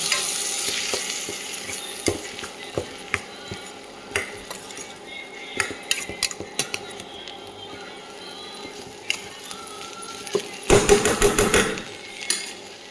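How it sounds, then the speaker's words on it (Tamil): A spatula scrapes and stirs bitter gourd frying with grated coconut in a pan, with a steady sizzle underneath and scattered sharp metal clicks, rising into a quick burst of vigorous scraping near the end. "தேங்காய் பூ நல்லா போட்டு கிண்டி விடுங்க."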